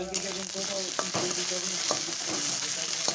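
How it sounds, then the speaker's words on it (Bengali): Ginger-cumin paste sizzles in hot oil with chilli and turmeric powder while being sautéed for a silver carp curry, a steady close-up frying hiss broken by several sharp clicks of a spoon stirring against the pan. "আদা জিরের পেস্টটা দিয়ে একটু কষিয়েই ওর মধ্যে লঙ্কা গুঁড়ো আর হলুদ গুঁড়ো দিয়ে দিচ্ছি"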